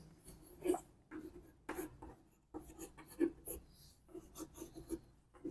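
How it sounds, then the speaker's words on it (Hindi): Chalk writing out a chemistry example on a classroom board, a series of close scratchy strokes and taps in uneven bursts with short pauses between them, no voice over it. "उदाहरण हम लोग लिखेंगे"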